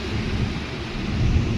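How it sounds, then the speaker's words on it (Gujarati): Heavy rain falls on the mountain road from Manali to Atal Tunnel and Sissu, a dense, continuous roar with deep low rumbling, close and loud without talking. "અત્યારે વરસાદ ચાલુ છે"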